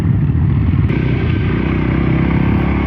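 A Voge 300 Rally motorcycle being ridden, its engine droning steadily and loudly up close with constant wind rush, a brief shift in tone early on.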